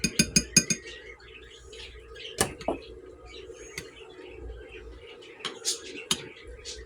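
Drained canned peas go into a tuna casserole: a quick run of light metallic clinks and taps from a spoon against the dish, then softer scrapes and scattered clinks in a quiet kitchen.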